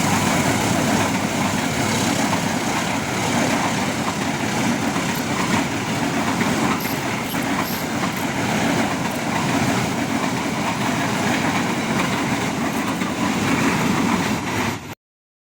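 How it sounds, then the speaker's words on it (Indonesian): A train rolls past on railway tracks beside a metal-detecting spot, a loud, steady rumble with clatter that holds for about fifteen seconds before cutting off abruptly. "kali ini saya mau lihat kereta api lewat ini"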